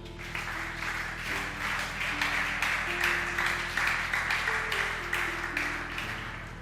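Applause from a church congregation, a steady wash of many hands clapping continuously and fairly loud throughout, with sustained organ or keyboard tones underneath.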